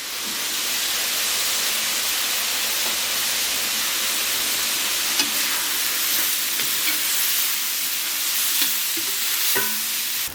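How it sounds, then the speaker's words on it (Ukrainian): Onion frying in a pot for plov, with garlic, bay leaf and peppercorns nearby, gives a loud, steady, close sizzle and hiss throughout, with a few faint clinks of stirring. "Цибулька наша жариться"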